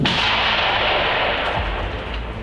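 Dense, sustained roar from explosions in a drone and mortar attack on a rear position in the war in Ukraine, loud and continuous with no break, the low rumble holding throughout.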